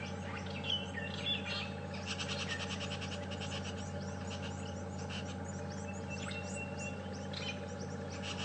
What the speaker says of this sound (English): Hopefully you can hear that chirping